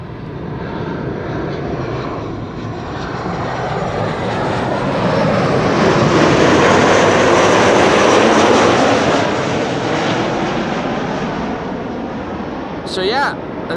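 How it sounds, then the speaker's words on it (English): A Transavia Boeing 737-800 arriving from Malaga into Amsterdam Schiphol on a sunny day, its loud jet roar swelling as it passes close overhead, peaking mid-way and then slowly easing off, with a brief bird chirp near the end. "Here we have Transavia flight 6224, arrival from Malaga"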